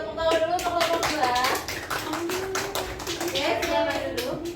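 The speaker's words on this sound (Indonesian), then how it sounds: "Tepuk tangan dulu untuk kelompok 2." A classroom of eighth-grade students claps for a group at an Indonesian junior high school, a burst of quick, uneven applause from many hands with a teacher's voice talking over it.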